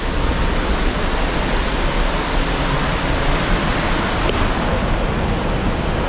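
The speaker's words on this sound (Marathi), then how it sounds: "आपण या ठिकाणाहून आता हा धबधबा पाहणार आहोत." Girmal waterfall in Dang, near Saputara, roars in a loud, unbroken rush of falling water that stays steady and close for the whole stretch.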